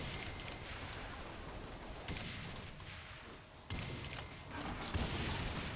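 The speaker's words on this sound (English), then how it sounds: "Oh my god, it's just a barrage of grenades." A barrage of grenade explosions in the video game Saints Row The Third, rendered as a quiet, dense run of overlapping bursts and booms with a few sharper blasts standing out, heard faintly in the game mix.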